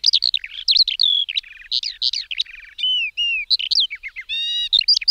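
Songbirds sing close and clear in a rapid stream of chirps, trills and whistled phrases, with brief gaps between bursts and no other sound.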